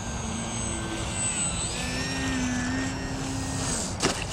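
A foam RC 3D aerobatic airplane flies and comes in to land, its electric motor giving a steady whine that rises and falls in pitch, moderately distant, ending with a short bump of touchdown.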